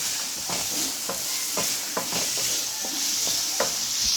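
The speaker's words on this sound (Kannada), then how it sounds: "ಸ್ವಲ್ಪ ಫ್ರೈ ಆಗಲಿ" Chicken masala frying in a pan as it is stirred, the utensil scraping in quick repeated strokes over a constant sizzle, heard close up with no talking.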